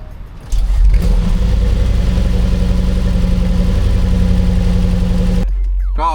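A Mercedes-AMG G 63 starts with a brief crank, then its engine catches into a loud, steady close idle that holds for several seconds before cutting off abruptly.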